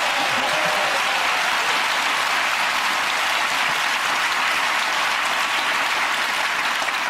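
A studio audience applauds and welcomes comedian Henning Wehn onto a television panel show, with dense, sustained clapping that stays loud and even from start to finish.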